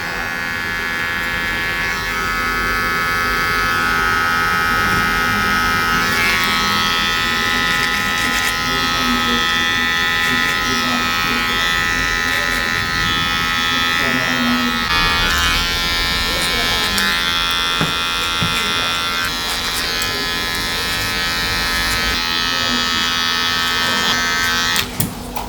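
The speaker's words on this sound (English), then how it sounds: "Just a little bit of clipper over comb." Electric hair clippers buzz steadily and close by throughout a clipper-over-comb haircut on a taper, with a brief pause near the end and voices talking faintly underneath.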